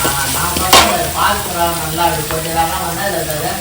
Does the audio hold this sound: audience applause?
no